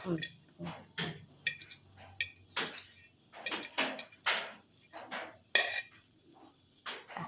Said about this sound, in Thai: คั่วแมงดาก่อน จีมันก่อนจีในกระทะเนาะ